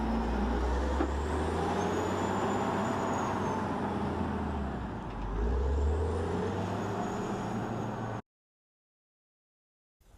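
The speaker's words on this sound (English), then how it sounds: "Here is another wheeled loader." Wheel loader working at an earthmoving site, loading soil and dumping it into a truck, heard as a continuous heavy diesel rumble with a faint high whine, fairly close, before the sound cuts to silence.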